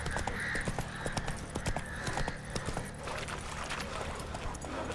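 Geralt's horse Roach in The Witcher 3 clip-clops at a steady walking rhythm, hooves close and distinct over ambient game sound.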